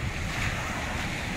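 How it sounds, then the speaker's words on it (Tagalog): Strong surf at the beach in Baler, Aurora, where rough waves make swimming dangerous: a continuous broadband roar of crashing waves mixed with heavy wind noise, with no voices. "sobrang lakas ng alon eh"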